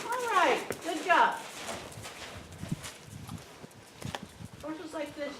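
A horse cantering in an arena, its rhythmic hoofbeats moderately close beneath a rider's and trainer's voices, with a burst of talk at the start and again near the end.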